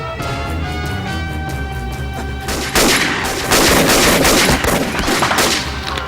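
Loud, close bursts of rapid gunfire break out after a tonal musical passage, with shots cracking in quick succession over a sustained background.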